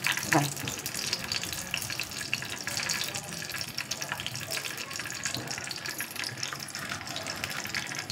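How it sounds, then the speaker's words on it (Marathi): Mustard seeds and cumin splutter in hot oil for a dosa chutney tempering, a continuous crackling hiss with scattered small pops throughout, fairly quiet and close. "थोडं जिरं, राईचा आवाज येतो ना तुम्हाला कशी तडतडली आहे।"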